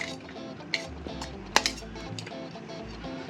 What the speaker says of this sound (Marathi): त्याच्यामध्ये आता आपण हा बारीक चिरलेला कांदा टाकायचा